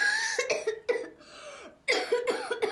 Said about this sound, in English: He's coughing badly.